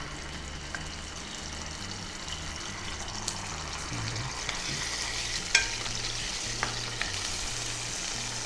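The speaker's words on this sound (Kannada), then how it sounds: "ಓಕೆ, ಆಯಿಲ್ ಬಿಸಿ ಆಯಿತು ಕಾಣುತ್ತೆ. ಫಸ್ಟ್ ನಾವು ಜಿಂಜರ್ ಗಾರ್ಲಿಕ್ ಪೇಸ್ಟ್ ಹಾಕುವ" Ginger garlic paste frying in hot oil, a steady dense sizzle running throughout with occasional stirring clicks and scrapes, close and continuous with no talking.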